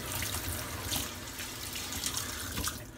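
Tap water runs steadily into a kitchen sink while hands are washed, a continuous close splashing hiss with small changes as the hands move through the stream.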